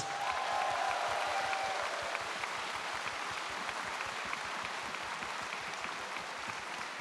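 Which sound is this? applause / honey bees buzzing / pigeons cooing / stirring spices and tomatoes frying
applause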